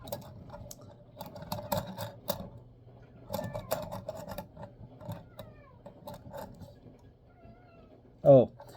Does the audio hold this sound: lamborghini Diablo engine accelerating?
no